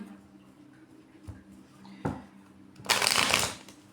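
Tarot cards are shuffled close up in a quiet room, with a few soft taps followed by one brisk riffling burst near the end.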